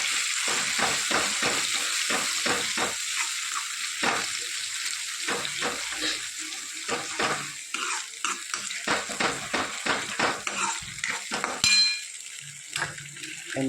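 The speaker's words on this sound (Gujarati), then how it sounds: "હવે જે આપણે ગ્રેવી બનાવી હતી એ નાખી દઈએ." Gravy goes into a hot pan of sizzling cumin, giving a crackling, bubbling fry broken by repeated stirring and scraping clatters of a spoon against the pan, close and fairly quiet.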